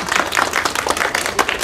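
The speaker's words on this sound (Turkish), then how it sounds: "Hadi bir alkış arkadaşlar." A group claps together at a search and rescue team setup event, a steady spread-out patter of many hands lasting under two seconds with no talking over it.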